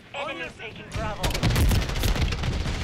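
The JAK Thumper grenade launcher in a video game fires in a dense run of loud, cracking booms, with a voice talking briefly before the blasts take over.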